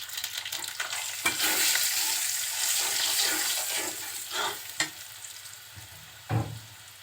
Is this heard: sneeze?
no